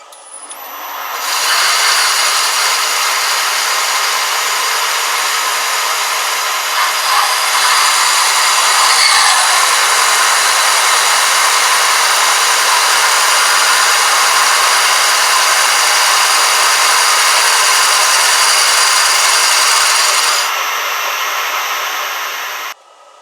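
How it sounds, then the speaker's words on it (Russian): A homemade high-speed steel cutter on a lathe turns a cast aluminium pulley for a grinder, giving a steady, loud, harsh whirring hiss that holds for about twenty seconds before cutting off abruptly. "резец из быстрореза пилит прям на ура алюминь, режет"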